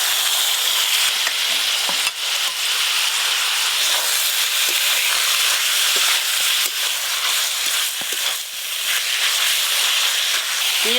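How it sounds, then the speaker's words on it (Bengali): Boiled flat beans stir-fry with onion and garlic in a hot pan, a loud continuous sizzle and crackle broken by occasional scrapes of stirring, close and steady throughout. "পেঁয়াজ রসুন একসাথে শিমের সাথে ভালো করে ভেজে নেব"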